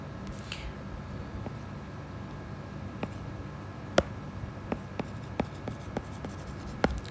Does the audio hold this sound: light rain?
no